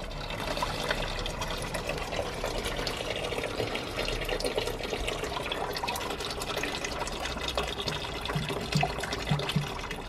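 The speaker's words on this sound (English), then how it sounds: "There's pretty much pure water coming out now." Plain water draining from a car radiator during a coolant flush, a continuous splashing trickle and gush that runs steadily throughout with no talk.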